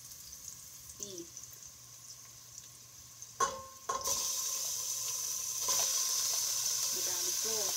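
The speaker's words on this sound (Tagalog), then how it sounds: "Ngayon, ihulog ko na ang ating beef." Beef hitting a hot pan for chili, with a sharp clatter followed by a sudden loud sizzle that keeps hissing steadily, a few faint knocks of a utensil in the pan.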